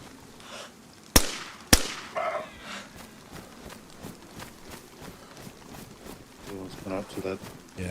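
Two sharp gunshots crack in quick succession in the DayZ video game, followed by softer in-game noises and rhythmic footsteps while people talk over them.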